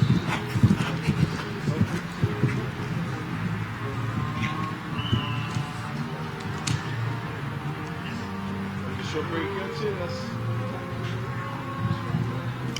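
Hoofbeats of a show jumping horse picking up pace on a World Cup course in New York, a steady rhythmic clip-clop heard amid arena noise and a commentator's voice.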